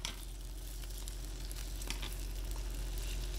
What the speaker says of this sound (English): So we're gonna flip these now, and we got our nice caramelized sear on there.